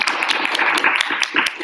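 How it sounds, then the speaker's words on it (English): A classroom of students claps for a classmate who just finished a presentation: a dense, steady patter of many hands at fairly close range, continuing without pause for under two seconds. "Claps for Ethan."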